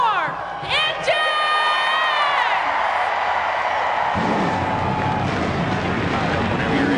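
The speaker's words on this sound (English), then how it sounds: "gentlemen, start your engine!" NASCAR stock cars fire up at Martinsville Speedway, with a cheering crowd and a voice carrying over a sudden, loud, continuous multi-engine roar that kicks in a few seconds later and holds steady.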